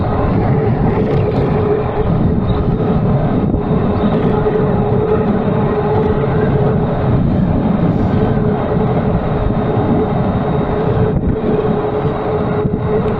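Strong headwind roaring across the microphone during a Jansno x50 v2 e-bike ride, a loud, continuous broadband buffeting that barely lets up from start to finish.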